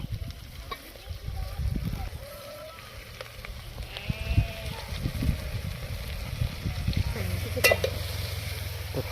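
Green chilies frying in an oiled pan in a Maharashtra village kitchen while they are stirred and turned, giving a soft continuous sizzle broken by scraping and clattering stirs.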